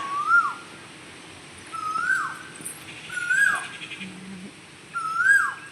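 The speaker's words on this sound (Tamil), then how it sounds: "குயில் சத்தம் கேட்டீங்களா எவ்வளோ அழகாக கூவுதுன்னு" An Asian koel calls four times in rising, whistled swoops spaced about two seconds apart, clear and moderately near against quiet garden background.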